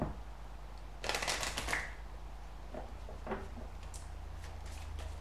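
Oracle cards drawn from a deck make a brief papery shuffle and slide, one burst of rustling followed by softer scattered flicks over a low steady hum.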